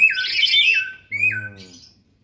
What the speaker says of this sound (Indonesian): burung lain teriak dari atas